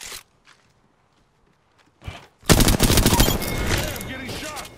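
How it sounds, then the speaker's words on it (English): Rapid bursts of automatic gunfire in the Apex Legends video game, loud and close, with a short single shot before a sustained barrage, amid footsteps and game sounds. "We just keep taking fire."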